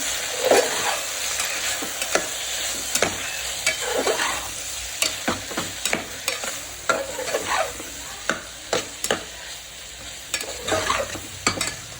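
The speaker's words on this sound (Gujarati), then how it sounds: "હવે એને હલાવી નાખશું." A spoon scrapes and knocks rhythmically against a pan while salt and coriander-cumin powder sizzle steadily underneath; no voices.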